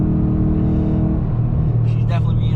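A Ford Mustang S550 on a dyno, fitted with a ported 2018 intake manifold and a JLT cold air intake. Its engine gives a loud, deep, continuous rumble that rises slightly in pitch toward the end.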